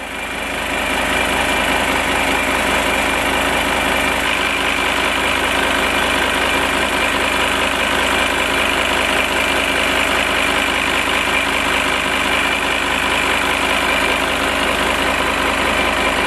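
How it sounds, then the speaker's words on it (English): A VW Touareg V10 TDI diesel engine with a leak idles steadily with a deep, even rumble and constant mechanical hum, close and loud with no breaks. "I'm going to try and do this with the engine running"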